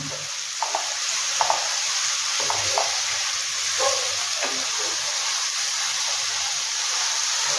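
Onions frying in a pan for a creamy Mughlai chicken dish, a loud continuous hissing sizzle close up, with occasional soft stirring scrapes.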